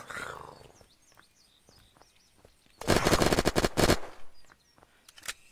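A Russian automatic weapon in the video game Unturned fires one rapid, dense burst lasting about a second, loud and close, with a few scattered single shots and faint birdsong in the quieter stretches around it.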